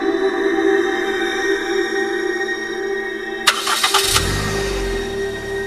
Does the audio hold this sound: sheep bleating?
no